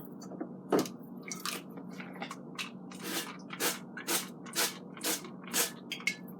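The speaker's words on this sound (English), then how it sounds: "I want to spray the potatoes again. I'm going to use my olive oil." A series of short pump-spray bursts of olive oil onto potatoes, about eight quick hissing spritzes close up, coming faster and more regularly toward the end.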